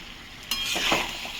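Paneer stir-fried in a pan with a cauliflower and potato dish, a brief scrape of stirring followed by a rising sizzle, close and fairly loud, no talk.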